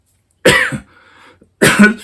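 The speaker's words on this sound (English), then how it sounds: "I coughed and burped at the same time" Two harsh, throaty bursts a second apart, loud and close, like a cough mixed with a gulping burp, with a faint murmur between them.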